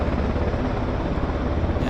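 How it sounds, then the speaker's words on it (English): A helicopter runs on the ground at Vancouver Airport, a loud, steady engine roar with a dense rotor throb that holds unchanged throughout. "So it might just be more than just an engine run-up."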